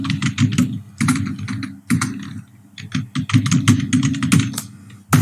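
Typing on a computer keyboard while entering data into Tally Prime accounting software, close, loud bursts of quick key clicks separated by short pauses, with no voice over them.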